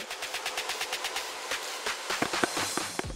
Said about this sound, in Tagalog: Ganon yung tunog ng tunay na gold.